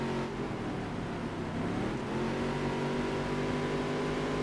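Engines of NASCAR stock cars from a dirt-to-Daytona racing game drone steadily and loudly, a dense layered roar of several cars running close together with rising engine pitch, no talking.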